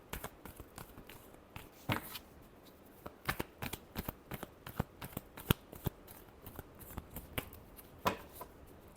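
Tarot cards shuffled close by, with a quick irregular run of crisp riffles and taps that is quiet but clear.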